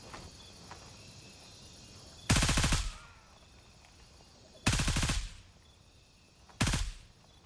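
Three loud, sharp gunshots from a Neotech weapon in a video game, spaced a couple of seconds apart, each ringing out briefly over a steady hiss of insect-like ambience.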